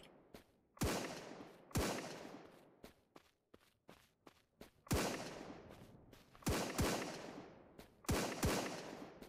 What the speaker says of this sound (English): It doesn't sound like they have any suppressors on their weapons.